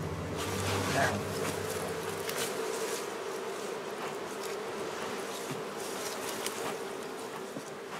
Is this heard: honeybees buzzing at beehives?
yes